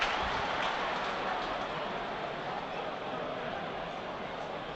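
A football crowd at a Sunderland versus Swansea City match applauds a near-miss shot at goal, a broad steady wash of clapping from a large stadium crowd that slowly fades while a commentator talks over it.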